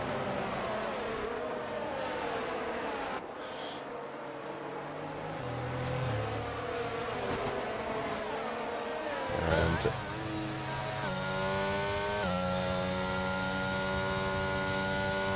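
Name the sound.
race cars in the F1 racing video game, Austria race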